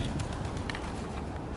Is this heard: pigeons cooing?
yes